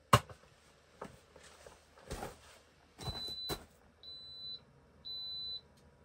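Electronic beeps from a cooker making chili in a tent, a few short chirps and then two longer steady tones spaced about a second apart, after some clattering handling noises.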